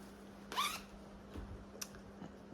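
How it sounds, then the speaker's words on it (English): Zipper on a fabric project bag, pulled once in a quick, faint rasp, followed by a few soft handling rustles in a quiet room. "Zipper noise, I'm sorry again."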